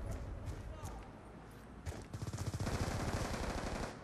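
Gunfire in a video game, a few scattered shots followed by a fast rattling burst of automatic fire, heard moderately close under a player's voice.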